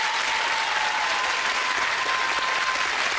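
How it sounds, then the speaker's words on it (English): A studio audience at a television game show claps steadily, with dense, sustained applause that fills the short stretch without voices. "Give a nice round of applause,"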